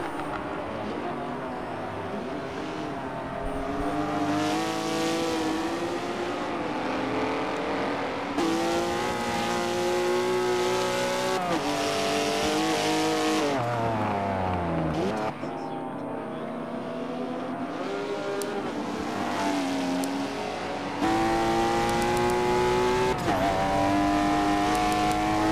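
GS class race cars roaring around Sebring in the Michelin Pilot Challenge, engines rising and falling through gear changes as several cars pass in succession, loud and steady throughout.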